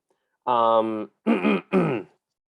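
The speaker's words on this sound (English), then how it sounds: "sorry, I just need to clear my throat" A person clears their throat, with a drawn-out rough vocal rasp followed by two shorter guttural bursts, close and fairly loud.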